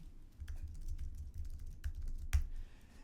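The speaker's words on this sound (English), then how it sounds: "enter in your keywords and search terms one by one" Keystrokes on a computer keyboard while entering search keywords into a rank-tracking tool, a few soft scattered taps with one louder press near the end, faint and close with no talking.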